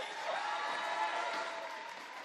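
A crowd at the Scottish Gas National Open Swimming Championships 2014 cheers and applauds a swimmer, a dense, steady roar of clapping and voices from a large poolside audience, sustained at an even level throughout.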